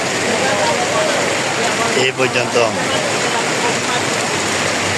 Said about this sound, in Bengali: বৃষ্টি বন্ধ হয়নি।